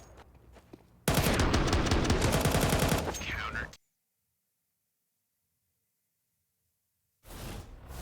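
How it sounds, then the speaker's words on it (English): Rapid automatic gunfire in Counter-Strike 2 during a professional esports match, a dense burst of shots lasting a few seconds. A stretch of silence follows before another burst begins. "That's a great shot from Gizmy, a great shot from Rainwaker."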